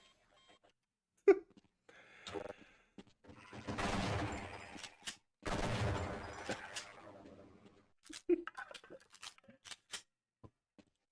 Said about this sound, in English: Shotgun in this game is so stupid